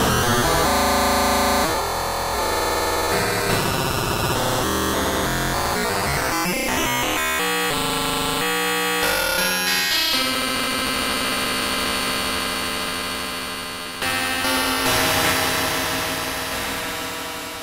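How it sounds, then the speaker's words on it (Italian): Sequential Prophet X synthesizer playing a dense, continuous patch with rising resonant filter sweeps and shifting modulation, loud and unbroken throughout with no voices. "Sentite che tipo di modulazioni si possono creare in pochissimo tempo."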